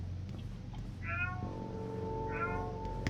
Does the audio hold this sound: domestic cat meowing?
yes